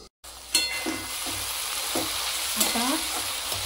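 Tomatoes sizzle and fry steadily in a pan for jini dosa, with a few spoon scrapes and stirring clinks over the crackle. The sound is close and fairly quiet.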